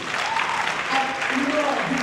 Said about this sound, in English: Can you clap us for this testimony?